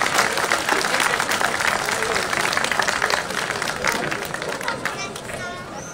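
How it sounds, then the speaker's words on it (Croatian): Audience applause for KUD Hrvatska čitaonica Selci Čakovački, a folklore group at a folk costume and dance revue in Đakovo, a dense steady clapping from a crowd that carries through the whole stretch and eases slightly at the end. "još jednim pljeskom pozdravimo KUD Hrvatska čitaonica Selci Čakovački."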